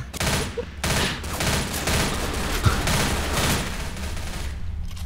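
Rapid gunfire in the Left 4 Dead video game rattles almost nonstop in dense bursts, loud and close, with only brief gaps between volleys.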